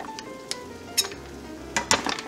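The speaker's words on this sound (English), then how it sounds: "Let's go ahead and add about another tablespoon of butter." Butter melts and sizzles softly in a pan holding garlic, andouille sausage and mussels, a low steady crackle broken by a few sharp clinks of a utensil against the pan.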